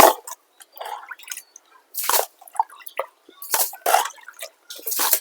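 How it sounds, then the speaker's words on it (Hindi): Water is scooped and drained out of a backyard fountain, producing irregular close splashes, drips and sloshes with quiet gaps between them. "काफ़ी ज़्यादा पानी जो है वो फुव्वारे के अंदर जमा हुआ है। इसे यहाँ से निकालते हैं स्टेप बाय स्टेप"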